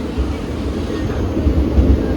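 Inside a sleeper coach of the Kollam–Nagercoil passenger train, a steady low rumble and rattle of the moving carriage, with deep thumps from the wheels and no voices.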